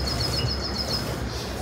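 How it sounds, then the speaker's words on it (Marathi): An Asian koel calls faintly from a distance, a few repeated clear notes over steady outdoor background noise. "तुम्हाला कोकिळेचा आवाज खूप येत असेल घरी"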